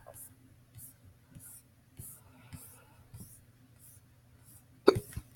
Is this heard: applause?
no